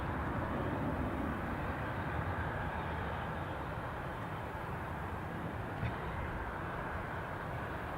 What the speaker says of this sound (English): Now this EasyJet flight returning back to Geneva, due out I think around 22:10.